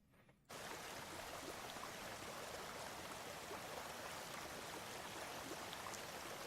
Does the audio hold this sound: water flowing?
yes